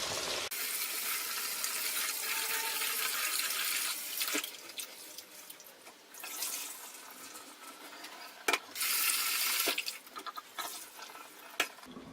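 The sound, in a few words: washing glutinous rice in water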